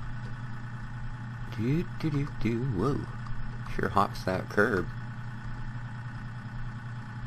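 A tractor's engine in a farming video game, idling and rumbling steadily with a low, constant drone while someone talks over it and reacts as the slow machine hops a curb.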